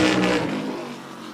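Modified race car engine on the Wall Stadium Speedway track during a Turkey Derby time trial, a loud revving roar at the start that fades steadily as the car moves away.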